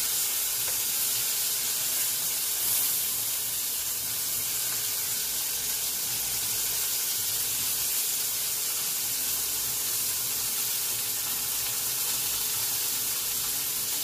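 Giant meatballs sear in a hot pan with a continuous, even hiss and sizzle that holds steady throughout, close and unbroken, with no talking.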